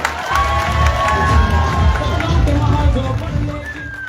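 A ceremony crowd claps and cheers in a sustained, dense wash of applause with shouting voices mixed in.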